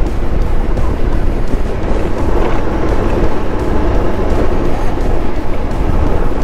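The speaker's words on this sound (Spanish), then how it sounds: "me gusta muchísimo cómo jala esta moto" A Benelli TRK 502 X motorcycle ridden along a gravel and loose-stone road, a steady loud rumble of engine and tyre noise with wind, no pauses.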